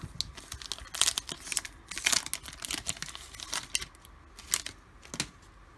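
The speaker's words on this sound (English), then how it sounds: "I'm going to tear up the cards." Foil cello packs of 2019-20 Chronicles basketball trading cards torn open by hand, a run of sharp crinkling and ripping bursts in quick irregular clusters, close and fairly loud with short pauses between.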